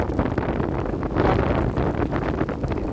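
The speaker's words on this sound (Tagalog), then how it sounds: "Malakas din po hangin." Strong typhoon wind buffets the microphone with steady roaring gusts during heavy pouring rain near a reservoir, a continuous loud rush with no voices.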